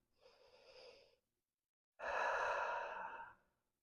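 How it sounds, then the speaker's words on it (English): A deep breath during yoga practice: a soft inhale, a brief pause, then a longer, fuller exhale, close and quiet, with no talk. "One more deep breath."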